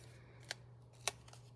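Scissors trim cardstock for a handmade card in two or three short, crisp snips spaced apart, close and fairly quiet over a steady low hum.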